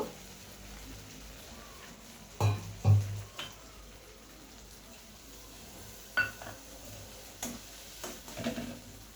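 Spice paste of onion, mustard, poppy seed, chilli and tomato stirred and fried in oil for a catla fish curry, with scattered clinks of a spoon against the pan and faint sizzling in between.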